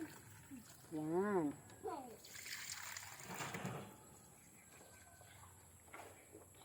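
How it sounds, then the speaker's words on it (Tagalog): Water from a dipper is poured into a pet rabbits' water container, a short splashing trickle heard amid speech. "Lagyan na natin yung lagayan nila ng tubig."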